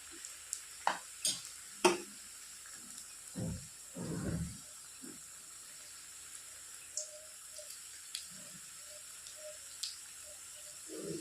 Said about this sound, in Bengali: উল্টে পাল্টে ভাজতে হবে লাল করে ব্রাউন কালার করে ভাজতে হবে